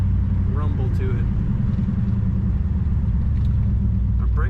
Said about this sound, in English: This car idles nice and low.